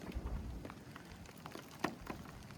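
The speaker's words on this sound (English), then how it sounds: "Hear the rain coming in." Steady rain pattering on surfaces at a primitive campsite during a storm, with scattered louder drops against a soft, constant wash of falling water.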